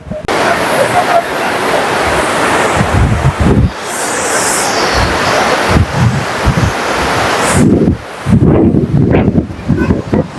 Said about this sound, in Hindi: तो भाई ये है वो काली नदी जो नेपाल और इंडिया को डिवाइड करती है।